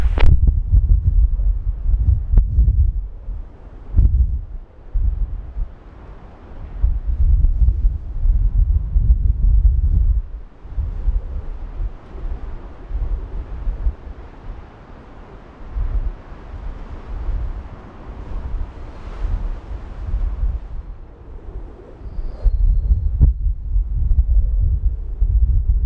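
Strong gusting storm wind at Schiphol Airport roars into the microphone as loud, low buffeting that surges and eases in irregular gusts, with rumbling thumps throughout and no talk.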